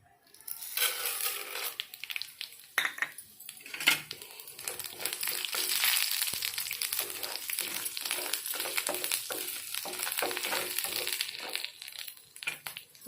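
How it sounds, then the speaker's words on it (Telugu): Chana dal, urad dal and mustard seeds hit hot oil and sizzle loudly and steadily, with crackling, popping spatters close up running the whole time without any talking. "ఇప్పుడు పోపులు వేద్దామండి. శనగపప్పు, మినపప్పు, ఆవాలు ఉండేవి."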